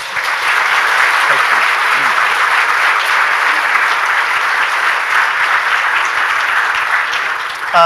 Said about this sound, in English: audience, would you give them a round of applause?